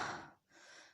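A person imitates panting with quick, tired, breathy gasps: a strong exhale, a brief pause, then another soft breath, close to the microphone.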